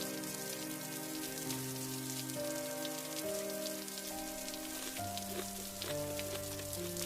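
Steady rain patters and hisses across a surface at a moderate level, an even wash of drops with no voices, under faint background music.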